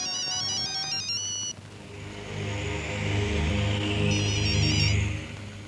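A phone ringtone plays a repeating electronic melody in a Pakistani Urdu-language film, loud and close, continuing over several seconds with a low rumbling background underneath.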